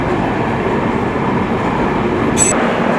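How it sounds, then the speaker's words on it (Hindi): Loud steady rumble of the Mumbai Central–Jaipur Superfast Express standing at Jaipur Junction, with a brief high squeal or whistle near the end. "ये खड़ी है Mumbai central Jaipur superfast express"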